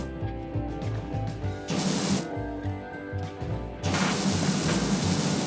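Pressure washer spraying in PowerWash Simulator, two loud hissing bursts of spray separated by quieter gaps, with a low background hum.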